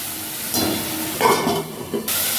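Spice paste with green chilli and ginger fries in a covered pan with a soft steady hiss and sizzle, marked by a few louder bursts of spitting and clatter.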